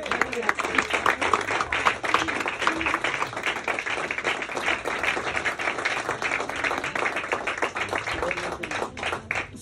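A church congregation at a pastor's installation ceremony breaks into dense, continuous applause, a rapid even wash of many hands clapping that holds steady for several seconds with faint voices mixed in.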